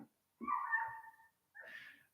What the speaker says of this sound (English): Confirmation from a dog.